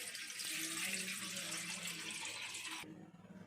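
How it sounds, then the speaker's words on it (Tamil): One litre of water poured into a cooking pot on the stove: a steady, close rush of flowing water for nearly three seconds that stops abruptly, leaving quiet room tone. "அதில் நான் 1 லிட்டர் தண்ணி ஊற்றுறேன்."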